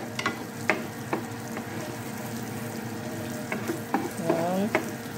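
Butter melting and sizzling in a pan over low heat while shrimp with garlic paste and onion is being cooked, a steady frying hiss with occasional stirring clinks and scrapes, no talking.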